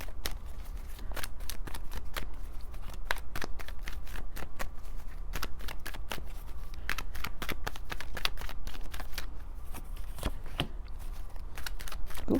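A deck of tarot cards shuffled by hand, close and loud, with a steady run of crisp riffling flicks and snaps over a low background rumble, and no talk.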